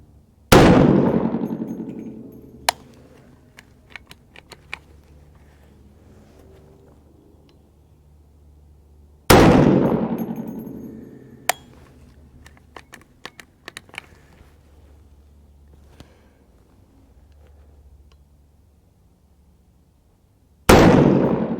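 Rifle shots from a 350 Legend firing 85 grain hollow point rounds, two sharp loud reports spaced about nine seconds apart with a third at the end, each trailing into echo, with scattered clicks and clanks between them.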